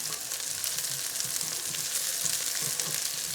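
Softened onions and garlic frying in a pan for moong dal, giving a dense, even sizzle that hisses steadily and close up, with faint low bubbling beneath and no voices.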